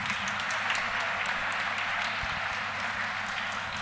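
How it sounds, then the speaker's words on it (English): An audience at a college commerce department event applauding, a dense, steady wash of clapping heard from within the crowd throughout. "give a very big round of applause for Joshua"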